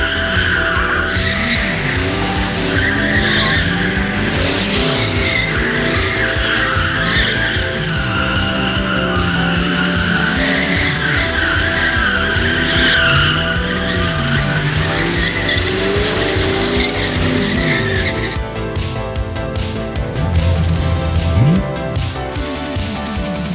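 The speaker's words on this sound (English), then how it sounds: "5-liter heater, set up as a drift car, and we're gonna go see how it slides." A Foxbody Mustang drift car with a 5.0-liter V8, converted from an automatic four-cylinder, slides with sustained loud tire squeal and skidding over a revving engine that rises and falls for more than twenty seconds.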